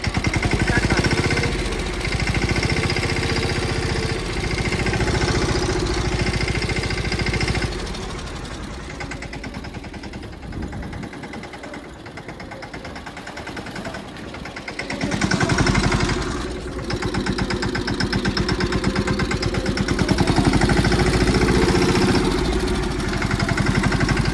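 A mini tractor engine chugs with a rapid, knocking rhythm, running continuously at close range in a farm field and easing slightly in the middle before picking up again.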